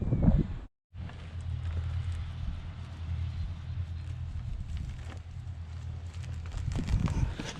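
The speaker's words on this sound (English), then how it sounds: "it's going a bit breezy" Breezy wind blows steadily across a farm field of drilled barley, a continuous low rumble of gusts buffeting the microphone, with a brief dropout near the start and stronger gusts toward the end.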